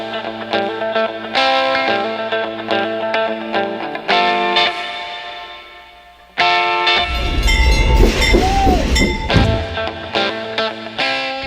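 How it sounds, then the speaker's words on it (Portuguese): A tourist train climbs the Campos do Jordão railway through the Serra da Mantiqueira, sounding loud, sustained tonal horn or whistle blasts. Steady rumbling and clatter from the wheels run beneath, with a brief drop in level partway through and no voices. "Restam alguns trajetos, como a viagem de trem turístico pela Serra da Mantiqueira"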